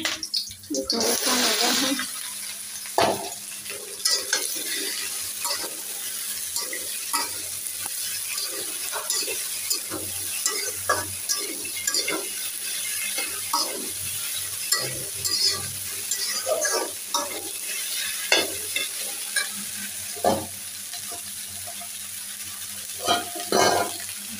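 Onions and chilies frying in a pan at home, a steady sizzle running throughout with frequent clinks and scrapes of stirring, close and fairly loud, no talking.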